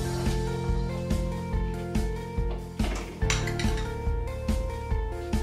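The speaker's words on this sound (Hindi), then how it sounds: "किशमिश, इलायची पाउडर, और इसे चम्मच चला कर ढक के रख देंगे।" A metal spoon stirs doodh fara, a milk dessert with cashews, raisins and cardamom powder, in a pot, giving a regular series of clinks and scrapes against the side, about two per second, close and clear.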